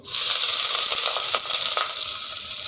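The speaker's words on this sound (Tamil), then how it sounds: "இப்போ இதை கொஞ்சம் வதக்கி எடுத்துக்கலாங்க." Chopped onion and green chili sautéing in hot oil for chicken biryani, a loud continuous sizzle with bright crackling and a few stirring scrapes, no voices.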